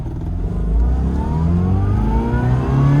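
Classic Mini with an A-series engine revving up to 5,000 RPM, a loud, close engine whine rising steadily in pitch through the gear climb, with no voices over it.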